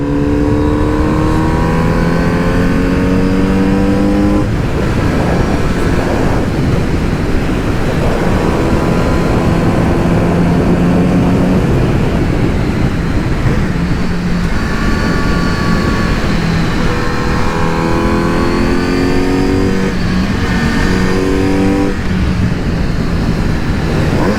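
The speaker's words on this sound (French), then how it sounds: "Avec le vent, on entend surtout le son qui sort de la boîte à air." Kawasaki Z900 RS 2022 50th anniversary motorcycle on the move, its air box intake moaning through rising and falling revs with clear gear-change dips, heard close under constant wind rush.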